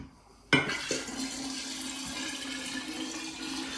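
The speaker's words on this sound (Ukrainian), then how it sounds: "Тепер додаємо спирт у воду." Alcohol being poured into cool water to make a spirit solution for 40% vodka, a sudden splash followed by a steady, close trickling stream of liquid that continues evenly with no talking.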